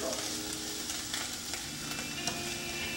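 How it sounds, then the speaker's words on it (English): Garlic and cauliflower frying in a pan give off a steady, close sizzle and crackle that hold evenly throughout with no talking. "So we'll fry this up a little bit."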